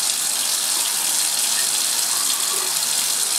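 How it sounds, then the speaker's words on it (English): Nitric acid poured into a beaker to rinse it out, a steady, full liquid splashing and running close up, continuous for a few seconds with no voices. "I'm going to use as little of this as possible to wash out the beaker, and then pour it on top of that stuff"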